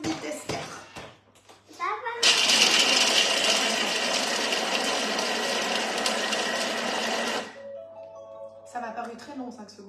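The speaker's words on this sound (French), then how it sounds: "On va mixer 5 secondes, vitesse 4." A Thermomix mixes crumble at speed 4, a loud, steady whirring grind that starts abruptly and runs unbroken for about five seconds before cutting off, with brief talk before and after.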